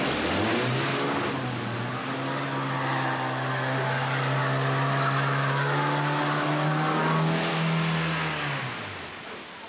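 A vehicle drives through a deep water dip at a fording trials site at Instow, its engine droning steadily and rising in pitch, with a rushing splash near the start and again near the end.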